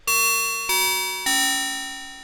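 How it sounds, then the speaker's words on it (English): Bell patch on the Arturia Jupiter-8 V synth using cross modulation, three struck metallic bell tones in sequence, each bright and ringing before slowly decaying, clean and alone. "The cross modulation takes VCO2 and uses it to affect VCO1 and makes bell sounds"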